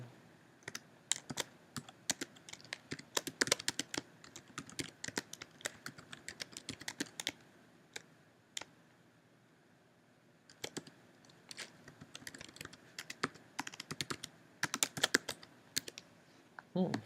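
Bursts of typing on a computer keyboard while generic details are entered into an APA citation form, rapid uneven clatter in several runs with short pauses between, close and fairly loud, with speech in the background.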